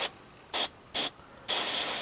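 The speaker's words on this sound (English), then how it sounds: "the Rhinox hide now dry on Commander Dante, I have added some Retributor armour to the airbrush." An airbrush sprays Retributor Armour gold paint onto a miniature in short hissing bursts: three quick pulses, then a longer sustained spray, close and clear with quiet gaps between.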